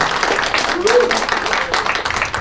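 Seminar audience applauds in a hall, a dense steady patter of many hands clapping for several seconds, with a voice briefly rising over it partway through.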